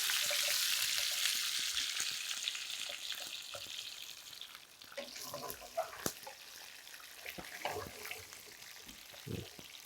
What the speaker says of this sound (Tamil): ஒரு ஒரு நிமிஷம் லைட்டாக வதங்கட்டும்